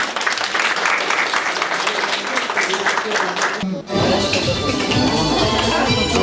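Loud, sustained applause fills the room at a fifth-anniversary celebration of a folk ensemble, a dense continuous clapping that briefly dips and then carries on, mixed with voices and music.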